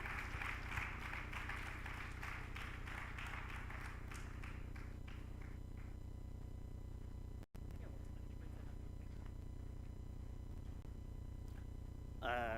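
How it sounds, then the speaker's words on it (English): Audience applause at a 2024 Erasmus+ pre-departure orientation ceremony, a steady dense clapping that is strongest at the start and thins out gradually, continuing under a steady room hum, with a brief voice near the end. "Please, let's make the applause warmer for him."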